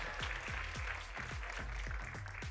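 Crowd applauding at an NRG versus G2 Valorant match on Bind, a dense, steady wash of clapping and cheering from a large audience, with a repeating low thump underneath.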